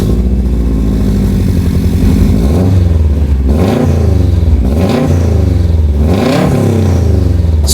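Subaru WRX STI with a Cobb stainless downpipe and Cobb titanium catback exhaust, revving repeatedly from a deep idle rumble into several rising and falling throttle blips, loud and close with no talk.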